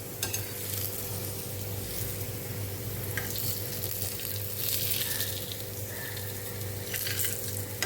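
Potato slices fry in hot oil with a constant, dense sizzle and crackle, joined by faint steady background hum and a few light clinks of utensils.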